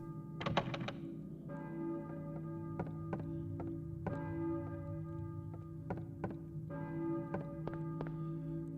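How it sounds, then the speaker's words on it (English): A church bell in the Silent Hill video game tolls repeatedly at a slow, even pace, each strike ringing out with long metallic overtones, fairly quiet and heard alone. "I hear a church bell, maybe? Who is ringing the bell?"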